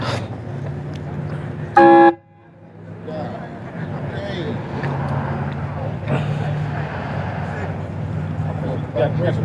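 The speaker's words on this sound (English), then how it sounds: "You got a train horn." A loud, brassy train horn on a scooter blasts once briefly, then the scooter engine keeps rumbling and idling underneath.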